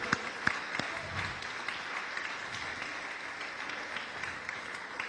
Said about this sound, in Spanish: Dense un aplauso a ustedes.